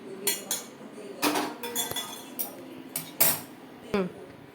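Metal clinking and scraping in a series of sharp, irregular taps as barley water is strained through a metal strainer, with quiet pauses between.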